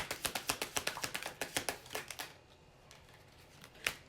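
Tarot cards are shuffled by hand in a quick, crisp riffle of about a dozen sharp flicks over two seconds. A pause follows, then one louder tap as the deck settles, all close up and quiet.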